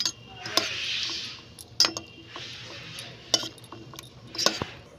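A spoon scraping and clinking against a metal pot as it stirs soap base melting in a warm water bath for homemade lemon peel soap, with sharp ticks and taps at irregular intervals over a soft hiss.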